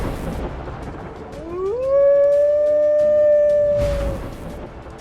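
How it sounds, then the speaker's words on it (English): Eerie storm sound effect for a stop-motion animation: a long rising wolf howl swells and holds, then fades, with rumbling thunder-like noise before and after it. "we introduced a storm and even threw in some wolf howls and thunderclaps to create that eerie atmosphere"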